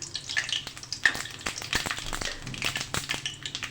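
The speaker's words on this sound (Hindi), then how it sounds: "ज़ीरा खूब अच्छे से फ्राई करना है, जैसे भगार के लिए हम फ्राई करते हैं।" Cumin seeds frying in hot oil with melted asafoetida for an aloo baingan curry tempering, a steady close crackling sizzle with small pops throughout and no talk.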